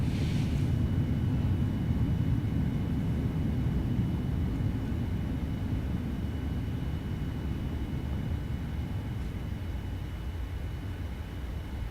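An airliner's thrust reversers roar during the landing rollout in the Prepar3D flight simulator on arrival at Los Angeles, a steady broad rushing roar that holds loud throughout and fades slightly near the end.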